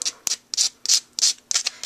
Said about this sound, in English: I'm going to take the sanding block out of here. I'm just going to take it and rough this up.